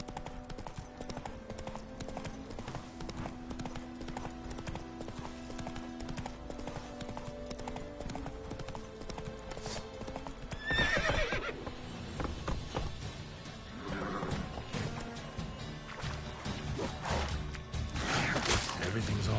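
Roach, the horse in The Witcher 3, gallops with a steady, rapid clip-clop of hooves and gives an occasional neigh; a brief voice sounds in the mix, which grows louder toward the end.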